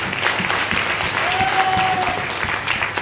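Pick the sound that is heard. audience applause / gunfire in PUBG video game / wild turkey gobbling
audience applause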